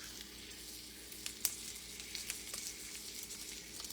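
A T-bone steak frying in a pan gives a faint, continuous sizzle dotted with small pops and spits, quiet and steady throughout.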